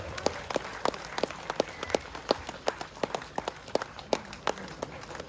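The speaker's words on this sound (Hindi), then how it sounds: "इनको भी जोरदार तालियों के साथ स्वागत किया जाए" Scattered, uneven hand claps from a small crowd welcome the former president's wife at a silver jubilee celebration of a welfare society in Arunachal Pradesh. The claps are sharp, moderately near, and sparse rather than a dense ovation.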